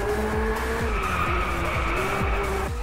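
A 2016 Ferrari 488 GTB with a 661-horsepower turbocharged engine, traction control off, skidding with a steady loud tire squeal over a droning engine and repeated rhythmic gear-shift pulses, close and sustained for nearly three seconds.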